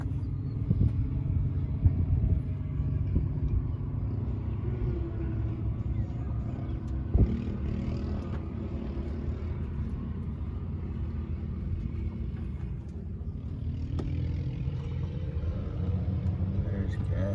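A Chevrolet El Camino drives along steadily, its engine a low continuous rumble that fills the clip without letting up, with occasional faint knocks and shifts, while people talk over it.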